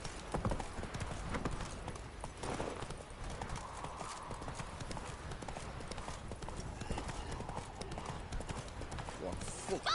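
Roach, a horse in The Witcher 3: Wild Hunt, gallops with steady, rapid hoof clip-clops throughout, steady and fairly loud, under intermittent talking and game voices.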